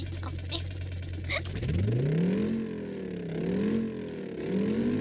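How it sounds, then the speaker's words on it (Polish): A car engine idles steadily after a crash test with a rock, then revs up with rising pitch and surges again a few times, loud and close. "silnik nadal działa"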